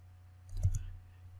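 A single computer mouse click when pasting text in Microsoft Word, a brief, faint, close tap over quiet room hum.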